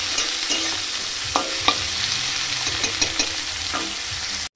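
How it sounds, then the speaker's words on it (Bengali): Chopped onion and slit green chillies frying in a pan with a steady close sizzle, broken by a few scraping stirs and clinks of the spatula. "এবার কাঁচা লঙ্কা চেরা আর পেঁয়াজ কুচি এগুলো দিয়ে দেবো একসঙ্গে, একটু ভেজে নেব।"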